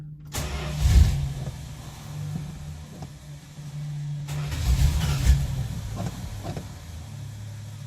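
The engine of a 1968 Dodge Polara, just fitted with a new voltage regulator, cranks in a short burst, then cranks again and catches, settling into a low idle rumble.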